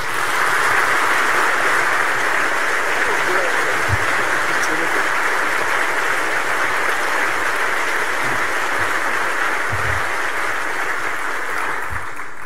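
Sustained, dense applause from an audience at the Yorkshire Wildlife Trust 70th anniversary event, greeting the Trust's president, Sir John Lawton, as he comes to the stage. The clapping is loud and close and stays steady, easing slightly at the end.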